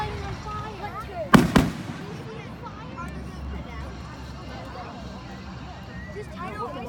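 A firework goes off outdoors at a middle school, a short cluster of sharp bangs and crackles near the start, with people talking and chattering around it before and after.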